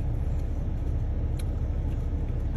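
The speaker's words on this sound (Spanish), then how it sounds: "Ahorita que pase el carro." A car passes close by on a rural road, its broad low rumble and tire noise steady and loud for the whole stretch, with no voices over it.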